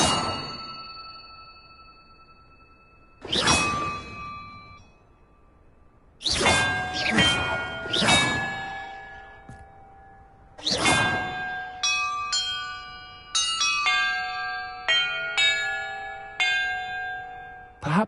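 Bells struck one after another in Hogwarts Legacy, each a bright clanging strike that rings out with a long fading tone, spaced irregularly with a few quick clusters and quiet gaps between.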